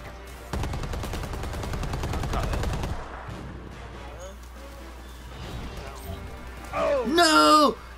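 Rapid automatic gunfire from a minigun in the Predator: Hunting Grounds video game, a dense burst of shots lasting a couple of seconds with game effects and a shouting voice around it.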